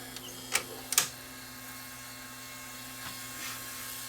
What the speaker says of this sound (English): Tape is threading.